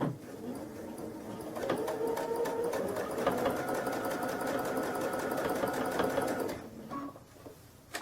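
Babylock Crescendo sewing machine free-motion quilting on a small piece of batting, running in a steady, fast mechanical whir and needle-tapping rhythm for several seconds before slowing and stopping, close and without talk.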